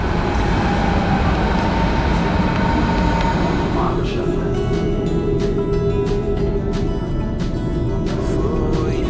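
A German S5 S-Bahn train rumbles steadily nearby, with a continuous mechanical hum, rattling carriage noise and occasional sharp clicks from the cars.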